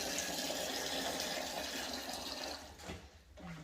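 Water pours into an Instant Pot during home canning of beef: a steady rushing, splashing stream that tapers off near the end, close and fairly quiet.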